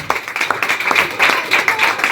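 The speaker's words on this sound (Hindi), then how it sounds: "जोर से तालियां बजा दीजिए।" A congregation claps loudly in a sermon hall, a steady burst of many hands clapping with a lively, slightly uneven rhythm, close and full throughout.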